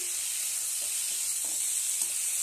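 Whole spices (five-spice seeds, cinnamon, two cardamom pods and two cloves) sizzle in hot oil as ghugni gets underway: a steady, faint, close hiss with a few soft stirring taps, and no one speaking.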